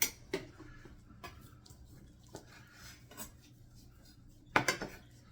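A knife slices ham into steaks on a cutting board, producing sparse, sharp taps and knocks at uneven intervals, ending in a louder double clack, with no one speaking.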